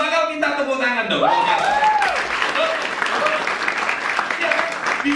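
Audience at a network-marketing business talk breaking into loud, sustained applause with whoops and cheers, following a speaking voice at the start.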